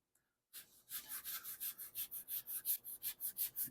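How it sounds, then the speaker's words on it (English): Sanding Bondo body filler and clear coat off the fender of a 1976 Mercury Monarch, a quick rhythmic back-and-forth rasping of about fourteen strokes after a brief silence, close and crisp. "I'm going to sand off the Bondo to get to the white"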